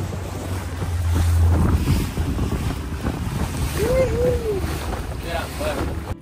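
Boat engines start up aboard a ship at sea off the Atlantic coast of Honduras, a steady low rumble under wind buffeting the microphone and wave wash, with a voice briefly calling out over it.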